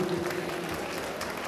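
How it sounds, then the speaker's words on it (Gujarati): Dense, even crowd applause welcoming a guest at a community mass wedding ceremony, steady and moderately loud throughout. "આપણે ખૂબ તાળીઓથી જેજેશ્રીનું સ્વાગત કરીએ."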